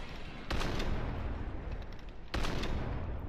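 Gunshots in a Western-themed CS:GO co-op mission: two sharp, loud shot bursts a couple of seconds apart over a steady background of game ambience and distant noise.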